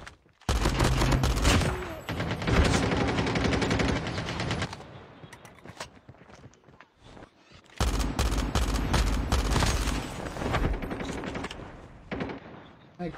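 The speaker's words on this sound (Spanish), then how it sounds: "Una escopeta, mano." Shotgun fire in the military shooter game Squad rings out in dense, loud bursts of repeated blasts, dropping into a quieter lull midway before another heavy volley of shots.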